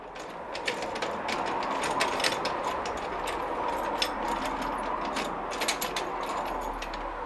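Nuts on clamps are undone with a ratcheting tool, making a continuous run of quick, close mechanical clicks over a low background rumble.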